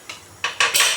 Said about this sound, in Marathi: मी आता कुकर उघडून बघते,